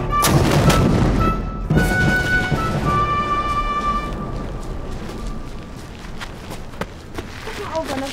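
Cannon fire sound effect in a museum's permanent exhibition at a fortress: a loud booming blast opens, followed by rumbling, ringing tones that slowly fade, with people talking nearby.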